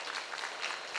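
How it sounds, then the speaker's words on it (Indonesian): A brief burst of crowd clapping at an Islamic school graduation gathering, a dense patter of many hands heard at a moderate distance. "Mana tepuk tangannya?"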